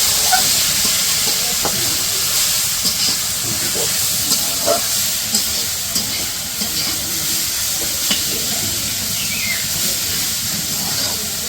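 Leafy greens frying in a hot pan over chillies and onions in a village kitchen, a steady hissing sizzle with faint stirring scrapes all the way through.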